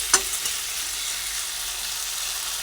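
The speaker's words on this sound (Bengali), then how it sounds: "পুরো আলু আর কুমড়োটা দিয়ে দিলাম ভালোভাবে নাড়াচাড়া করে নিই একসঙ্গে মশলার সঙ্গে ভালোভাবে ভেজে নিচ্ছি" Potato and pumpkin fry together with spices in a pan, giving a steady bright hiss of sizzling oil. One sharp knock of the stirring utensil sounds near the start, close and continuous, with no talking.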